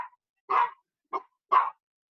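Dogs in a house bark nearby in short, sharp yips, about four clipped barks spaced roughly half a second apart, loud and alone with no talking.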